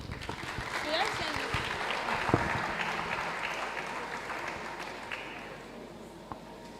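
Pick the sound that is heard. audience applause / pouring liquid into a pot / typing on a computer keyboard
audience applause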